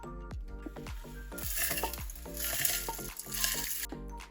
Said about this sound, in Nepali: यसलाई ठिक्कको आगोमा डढ्न नदिकन यसरी चलाइकन भुट्नुपर्छ।